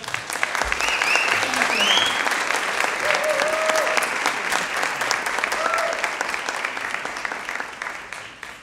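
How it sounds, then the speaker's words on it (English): Loud, sustained applause from an audience at a school show, dense and even clapping filling the room for several seconds, with a brief voice heard over it. "please give them a loud applause"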